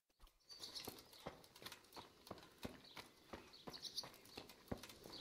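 Horse hooves clip-clop in the medieval role-playing game Kingdom Come: Deliverance, a steady, close series of sharp hoof strikes at a trotting rhythm with a faint whinny-like sound partway through.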